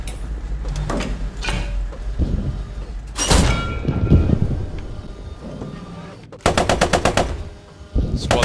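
Machine gun fire in the Post Scriptum war game, bursts of rapid automatic shots alongside a dense barrage of loud gunfire, including a sharp rattling burst near the end.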